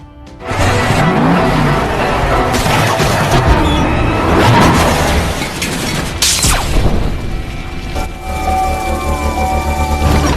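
Cars smash into each other during a movie chase scene: dense engine roar with heavy crunching impacts and booms, one sharp collision standing out partway through. Loud throughout, no talking.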